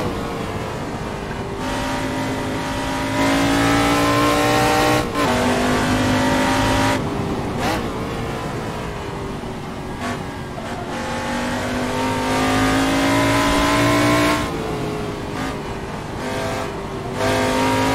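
Race car engine in the Assetto Corsa racing game with the AC Legends prototype mod, revving hard and climbing through the gears, dropping off briefly for shifts and braking, then accelerating again, loud and continuous with no talk.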